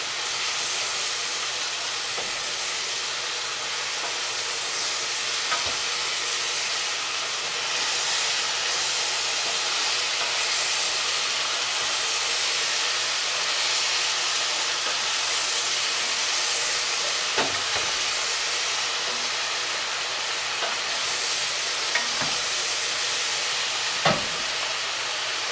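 Squash and zucchini frying in a pan for ratatouille give off a steady, broad sizzling hiss that runs unbroken for the whole stretch, with a few faint clicks and no talking.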